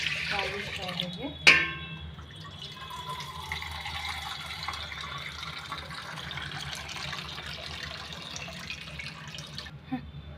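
Two cups of water pour into a pot for ragi mudde, starting with a sharp knock and then running in a continuous soft splashing stream for several seconds before a final tap.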